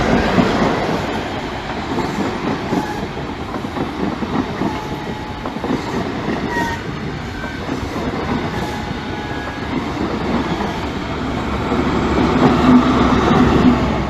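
A train rolls through the Great Northern Terrace level crossing, a steady loud rumble of wheels and wagons lasting throughout, with rhythmic clatter over the rails and a swell in volume near the end.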